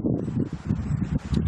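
Loud, low rumbling gusts of wind buffeting a microphone, continuous and close, with no voices.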